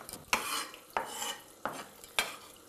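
Onions frying in a pan while being stirred, Georgian home cooking: four sharp scraping strokes at a steady pace, each trailing into a soft hiss of sizzling, close and fairly quiet with no talk.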